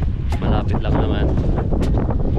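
Strong wind at a beach buffeting the microphone, a loud, roaring rumble with gusty surges throughout the short stretch.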